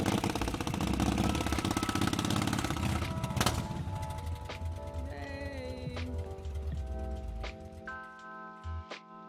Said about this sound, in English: here's a fellow motorcycle cop stopping by to show his maneuvering skills